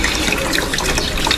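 Water rushing and splashing steadily from a tank being drained and cleaned before a typhoon, a continuous close, fairly loud broadband wash with no pauses.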